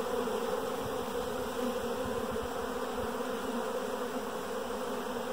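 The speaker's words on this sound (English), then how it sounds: "I've been taking the bees with a brush off of this box and putting them here in front of the hive" Dense, continuous buzzing of a honeybee swarm with two queens at a hive entrance, bees being brushed from a box toward the hive, a steady close drone with no talking.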